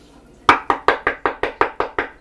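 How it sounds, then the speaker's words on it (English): Nine crisp, evenly spaced knocks on a wooden surface in a home kitchen, loud and close, struck in a steady rhythm with no talking over them. "Knock on wood, my friends."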